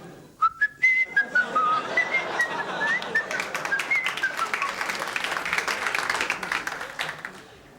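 Someone whistles a lively tune close by while brushing their teeth, bright wavering notes rising and falling, over a steady patter of brushing noise that grows busier.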